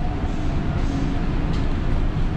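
Steady, loud rumble from a moving Chongqing Rail Transit Line 2 metro train, a continuous low roar of wheels and carriage noise heard from onboard with no breaks.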